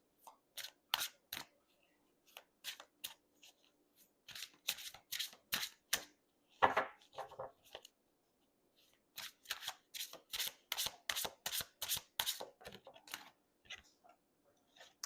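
Tarot cards being shuffled by hand close up, with crisp, rapid riffling flicks arriving in bursts and short pauses between runs, moderately quiet and with no talking.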